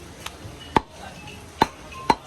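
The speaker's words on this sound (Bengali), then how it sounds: "কালাভুনার মাংস কাটা হচ্ছে সমানে" A knife chops through beef for kala bhuna with sharp, distinct thwacks, four clear strikes at uneven intervals. The room is quiet apart from faint background noise.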